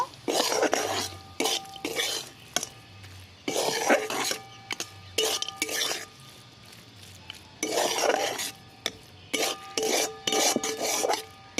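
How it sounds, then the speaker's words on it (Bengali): A spoon scrapes and stirs fried red amaranth greens with poppy seeds and fried peanuts in a pan, in loud, rhythmic rasping bursts separated by brief pauses, close and without speech. "এবার আমি একটু নাড়িয়ে নেব নেড়ে চেড়ে নেব"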